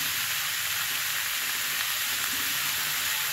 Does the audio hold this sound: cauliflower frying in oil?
yes